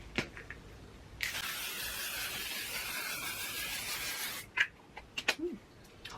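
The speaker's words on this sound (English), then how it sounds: "I'm going to use the L'Oreal Infallible setting spray" L'Oreal Infallible makeup setting spray misted in one long, steady hiss of about three seconds, close and fairly loud, with a few soft clicks and handling taps after it.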